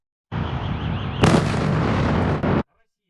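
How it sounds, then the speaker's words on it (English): Explosions from a Russian missile strike on Kyiv in Ukraine: a sustained loud roaring blast that swells sharply partway through, then cuts off abruptly into silence. "Russia probably carried out the most powerful and most complex missile strike on Kyiv and other cities in Ukraine"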